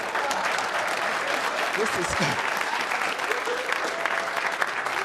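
Comedy club crowd at Gotham Comedy Club breaking into sustained applause during a stand-up set, a continuous even patter of clapping with a faint murmur of voices underneath.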